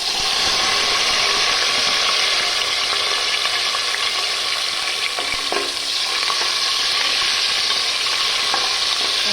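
Whole small shallots fry with spices for a mutton pepper gravy, producing a loud, dense, continuous sizzle with occasional stirring scrapes and no talking.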